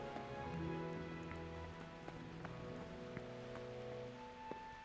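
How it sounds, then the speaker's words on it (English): Steady rain falls in the medieval video game Kingdom Come, a dense, even patter that continues throughout, with soft sustained tones underneath and occasional sharper drips. "It's raining"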